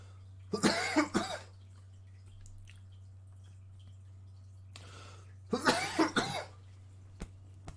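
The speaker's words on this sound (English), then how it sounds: "Gotta cough it out." A streamer coughs in two harsh, close bursts of several coughs each, separated by a quiet pause over a steady low electrical hum, with a faint breath between them.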